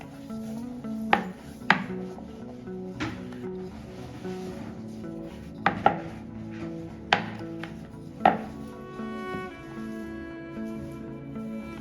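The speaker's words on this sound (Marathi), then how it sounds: "आता आपल्याला यावर डो ठेवायचा आहे आणि छान पातळ पोळी लाटून घ्यायची आहे मोठी" Maida dough for khare shankarpale is rolled out thin on a wooden rolling board, with a rolling pin's irregular wooden knocks and soft rubbing strokes over a faint steady tonal background.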